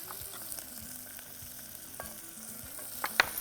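Ginger garlic paste frying in a pan with sautéed onions for coconut milk varagu rice, a quiet steady sizzle with faint stirring scrapes and a couple of sharper clicks near the end.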